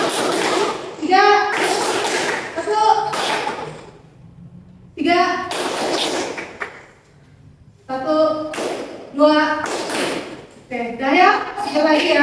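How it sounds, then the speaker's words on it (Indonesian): Students in a mathematics classroom clap in a counting pattern as a teacher calls out the count, sharp claps in short bursts of increasing number between the spoken prompts. "Tepuk satu, tepuk dua, tepuk tiga,"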